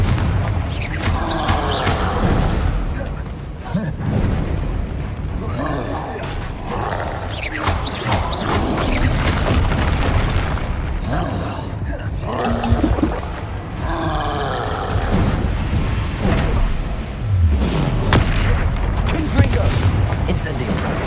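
Repeated Confringo spell blasts in a Harry Potter-style video game, a dense run of booming explosions and crashes with mechanical clatter, loud and continuous over roughly twenty seconds.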